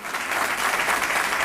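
Brief burst of clapping from a gathered crowd at a presidential appearance, dense and sustained, rising quickly and holding steady.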